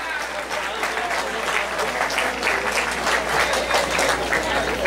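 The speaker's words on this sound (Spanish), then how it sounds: "para quien pide un fuerte aplauso." A crowd at a festival pageant applauds a queen candidate named Señorita Amistad with dense, sustained clapping that stays loud and even from start to finish, with some crowd noise mixed in.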